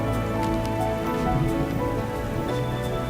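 Steady rain pours continuously in an animated Miraculous Ladybug episode scene, a dense even wash of falling drops close at hand, with faint thunder-like rumbles and layered background music underneath.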